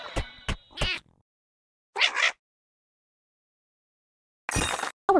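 A cartoonish cat in a children's learning game meows a few times in short bursts, with quiet gaps between calls and a final meow near the end.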